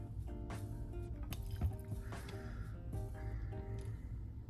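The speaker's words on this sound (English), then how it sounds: "And let's get some water in here." Clean water is poured into a cup set up for watercolor painting, with soft splashing, drips and a few clinks of the container, close and fairly quiet with no talk.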